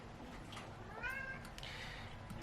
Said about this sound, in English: Hey little cat, shut up.